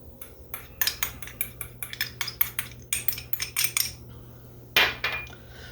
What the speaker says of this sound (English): So I could actually just use this little measuring spoon to stir this up.